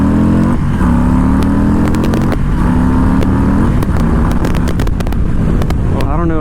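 A 2021 Harley-Davidson Low Rider S accelerates hard onto a highway, its engine note climbing loud and close through several gear changes over steady wind rush.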